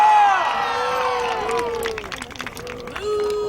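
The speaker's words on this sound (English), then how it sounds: "Already you are booing him." A Renaissance Faire joust crowd loudly boos the knight Sir Ulisio de Milano, many near voices with long, sliding jeering tones that fade and then swell again.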